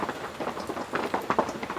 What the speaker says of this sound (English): Rain on the canvas.